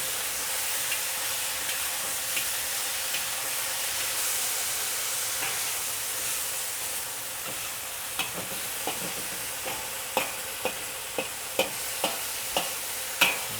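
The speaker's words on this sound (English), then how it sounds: "I'm gonna pour it right in. Make sure I got all the ingredients in there. And it's super hot wok right now." Hunan chicken sauce sizzles in a very hot wok with a continuous hissing fry, joined later by a run of sharp metallic clacks as the wok is stirred; close and steady, with no talking.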